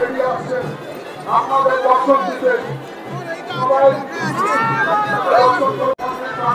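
A dense street crowd murmurs and chatters during the Salkia Boro Maa Snanyatra temple procession, with overlapping voices and brief louder calls filling the scene continuously.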